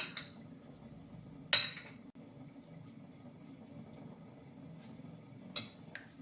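A spoon clinks against a bowl while salad ingredients with lemon juice and salt are mixed, a few sharp scrapes and taps standing out over quiet kitchen background noise.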